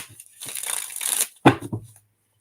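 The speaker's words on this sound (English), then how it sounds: "one more shuffle, one more go" A deck of tarot cards being shuffled by hand, a broad riffling rustle lasting about a second, followed by a few sharper taps as the cards are squared and set down, close and alone.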